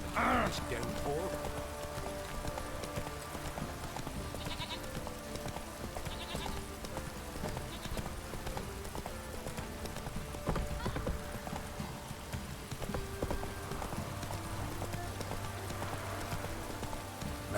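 Hooves clip-clop in a rapid galloping rhythm as the horse Roach runs in The Witcher 3: Wild Hunt, sounding close and continuous over the game's outdoor ambience, with a brief whinny-like note early on.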